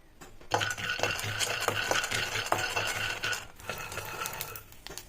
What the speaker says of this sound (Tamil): ஒரு கப் வேர்க்கடலையை வறுத்து எடுத்துங்க